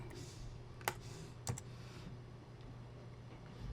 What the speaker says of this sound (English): I type in, up here, the top right, I type in Minnie